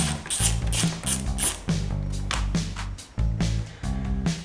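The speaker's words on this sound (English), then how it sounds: "there's a 10mm bolt right here that's holding this plastic part on. I'm simply going to just remove that for now." A ratchet clicks rapidly in repeated bursts while backing out a 10mm bolt that holds a plastic part on a Victory motorcycle, loud and close with short pauses between strokes.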